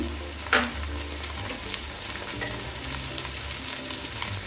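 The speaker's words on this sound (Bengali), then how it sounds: "এখন আমি টমেটোগুলো দিয়ে দিচ্ছি" Tomatoes go into a pan of onions already fried for three minutes, with a soft thump near the start and then a steady, moderate sizzle and stirring rustle that runs on without pause and without speech.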